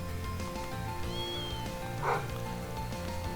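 A cat meows once, briefly and at moderate volume, inside the Trails Through Daybreak game, set against a steady bed of game music and ambient hum.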